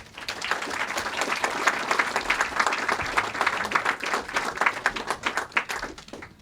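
An audience applauds warmly to welcome foreign policy author Richard Haass, with a dense wash of clapping that swells quickly and holds steady before thinning out toward the end.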